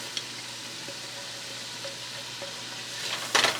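Onions and scallions sautéing with marinated chicken in a pan, a soft continuous sizzle with faint stirring scrapes and a brief louder burst of sizzling near the end, no voices.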